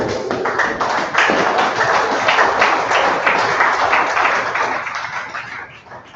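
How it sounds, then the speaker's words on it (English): A seminar audience at a Rotary International District 9112 Rotary Foundation event breaks into dense, loud applause for a donor, a full sustained clatter of many hands that holds steady and then tapers off at the end. "let's give him a sounding applause"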